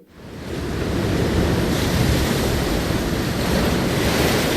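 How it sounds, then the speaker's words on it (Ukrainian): Loud, continuous roar of sea surf with big waves mixed with strong wind buffeting, steady throughout with no voices. "Послухайте, будь ласка, який вітер сьогодні на морі? Які хвилі?"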